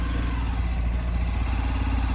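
Tractors working at night at a site in Crateús, Ceará, a steady low diesel engine drone with rhythmic clatter, continuous and moderately near, with no talking.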